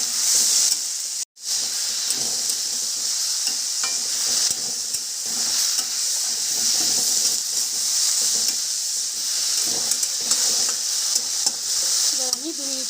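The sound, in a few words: red amaranth leaves frying and being stirred in a pan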